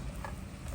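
Baby bok choy being stirred in a hot pan, a short, quiet burst of scraping and soft sizzling with no voices.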